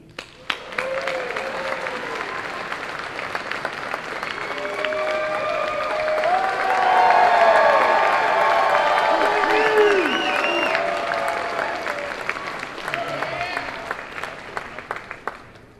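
A comic convention panel crowd claps and cheers for a guest, with whoops and shouts rising over dense applause that swells to a peak midway, then eases and thins out.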